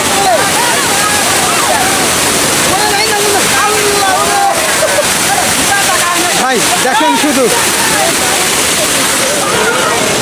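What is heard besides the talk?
waterfall pouring heavily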